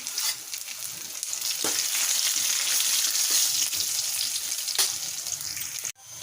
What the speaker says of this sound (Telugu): మూడు ఉల్లిపాయలు వేసుకొని బాగా వేసుకోవాలి